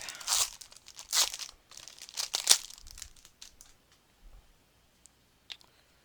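Score tape being handled during papercraft assembly of a mini album, giving sharp crinkling and tearing bursts near the start, then sparse small clicks and rustles fading toward the end, with no talking.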